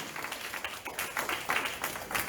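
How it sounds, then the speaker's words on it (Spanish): Church congregation applauding, a short burst of scattered hand clapping of moderate loudness, slightly uneven in rhythm, with faint voices mixed in. "¿Cuántos le dan un aplauso al Señor?"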